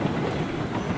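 A Climax steam locomotive in a railroad simulation game hauls a string of cars, producing a dense, steady rumbling clatter of rolling stock that fills the moment without any voices.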